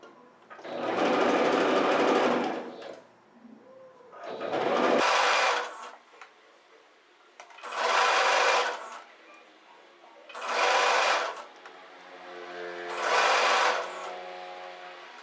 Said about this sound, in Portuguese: vamos passar aqui uma costura, né, unindo essas 3 partes